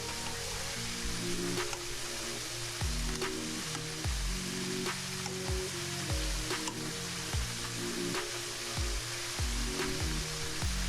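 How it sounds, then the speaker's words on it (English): Steady crackling sizzle of buttermilk-battered chicken frying in hot oil, loud and continuous, with faint clinks and thumps underneath. "Now it's frying for about 5 minutes."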